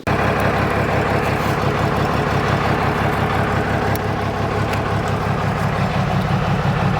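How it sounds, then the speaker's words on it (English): A pull truck's engine runs at a steady, loud idle throughout, a dense low rumble with an even rhythmic throb and no talk. "So let's get it fired up, get the RPM set up"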